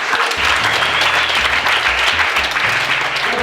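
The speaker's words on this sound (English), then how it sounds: "big round of applause for everybody being here" A big round of applause from the audience at the Ultra Race of Champions trail running event in Colorado, dense and sustained clapping throughout with a steady crowd roar and a low hum underneath.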